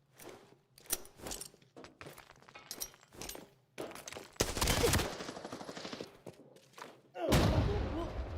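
Gunfire in Halo, a multiplayer shooter match: a rapid series of sharp shots followed by heavier bursts and impacts, with a voice talking in between.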